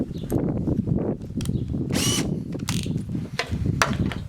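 A power drill whirs and grinds while drilling holes in bamboo, close up, with brief higher-pitched bursts as the bit bites.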